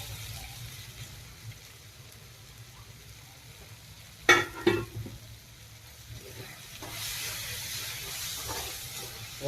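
Turmeric goes into a pan of frying food, with a quiet steady sizzle, a cluster of sharp clinks midway, then a louder, brighter frying hiss that swells and holds to the end.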